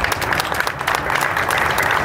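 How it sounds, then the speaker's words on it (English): Brief round of applause from a press conference crowd gathered outdoors for a Chesapeake Bay event, a steady burst of clapping heard alone at moderate volume. "Let's give her a nice round of applause"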